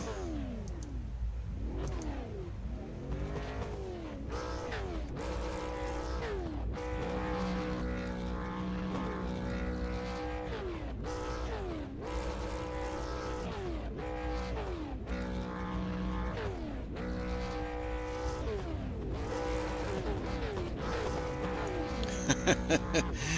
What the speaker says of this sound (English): I think somebody's trying to blow up their engine here.